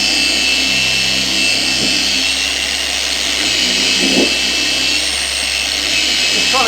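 An In2Detailing DA15 V2 dual action machine polisher with a 15mm throw whirs steadily at constant speed while pushed hard into a surface, a loud, close, continuous drone with a few brief scraping accents.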